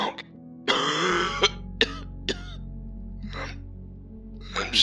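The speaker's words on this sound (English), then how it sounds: "The other starts to violently cough, trying to hide it with his arm." A man coughs and clears his throat in several sharp, harsh bursts with gasping breaths between them, close and fairly loud.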